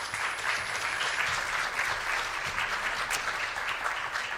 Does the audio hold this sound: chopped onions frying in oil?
no